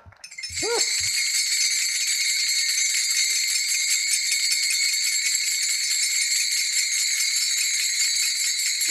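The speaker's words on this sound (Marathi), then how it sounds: "टाळ" Taal hand cymbals ring out at a Marathi kirtan, struck rapidly and continuously in a bright, shimmering metallic wash that starts after a brief rustle and holds loud and steady.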